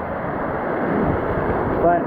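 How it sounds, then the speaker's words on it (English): Waterfall on the Salmon River heard during a fishing trip: a continuous, loud rushing roar of falling water with wind buffeting the microphone, steady throughout with no break. "Beautiful waterfall."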